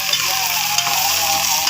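Chopped ginger and garlic sizzle steadily in a pan of browned onions for haleem, a close, continuous frying hiss while being stirred.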